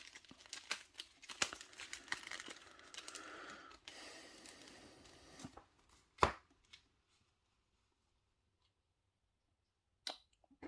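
Marvel Champions playing cards being shuffled, a busy run of crinkly riffling and soft card slaps for about five seconds, then a sharp single snap and near silence with one last brief flick.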